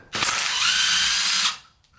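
A power tool whirs loudly for about a second and a half, driving a socket onto a bolt during a Briggs & Stratton 121S02 engine teardown, then stops.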